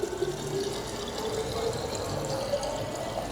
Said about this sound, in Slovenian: Torej, proti meni in voda teče.